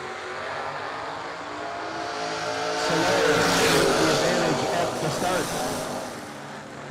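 A 1979 Camaro drag race car launches alongside another car at a drag strip. Broadband engine noise swells in the middle to a loud roaring peak, then eases off as the cars pull away.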